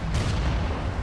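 Cannon fire from the Assassin's Creed Unity video game booms in a street battle in Paris, one heavy, continuous rumbling blast filling the whole moment.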